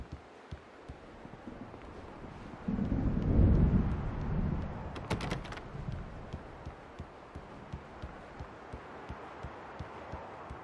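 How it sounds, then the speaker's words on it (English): An approaching thunderstorm in the video game Alan Wake, with a steady wash of wind and rain and a deep rolling thunder rumble that swells in the middle and then fades back into the storm noise. "The storm is almost here."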